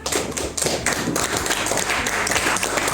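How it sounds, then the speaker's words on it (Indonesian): Students clapping their hands in a classroom at a school guidance session, a steady run of close, dense claps filling the whole stretch. "tepuk tangan, Nak"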